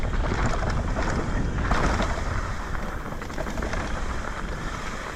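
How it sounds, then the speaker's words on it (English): Strong wind buffets the microphone in a constant broadband rush, with gusts swelling and easing throughout. "So windy today."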